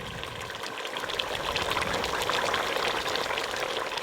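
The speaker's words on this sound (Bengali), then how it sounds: "দেখুন কিরকম ঝোলটা টকবক করে ফুটতেছে" Mutton gravy for biryani boils hard in a pot, a churning, bubbling roar that swells after the first second and holds steady and close.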